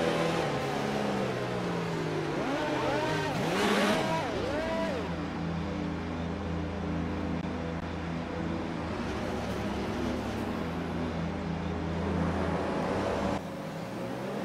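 F1 2019 video game race cars roar off the start at Paul Ricard in Le Castellet, engines revving loud and continuous with rising and falling pitch sweeps as the pack accelerates together.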